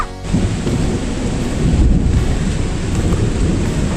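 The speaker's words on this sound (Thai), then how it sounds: "โอ้ฝนตก" Heavy rain and rolling thunder fill a forest during an off-road trip with a Toyota LN106 and a 2013 Triton 4x4, a loud, steady downpour with a deep rumble swelling near the middle and no voices.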